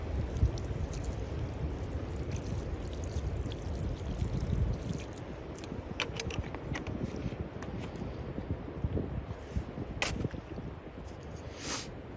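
Water poured over an effluent pump outdoors in near-freezing weather to rinse it clean, a steady splashing trickle with a few sharp knocks, moderately close and alone.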